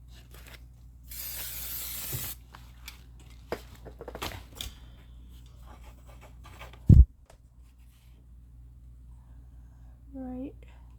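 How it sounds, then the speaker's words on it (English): A spray can hisses in one burst of about a second onto quilt fabric, followed by quiet handling noises and a sharp thump. "We're going to spray these two, and then we're going to get two of the brown ones to spray."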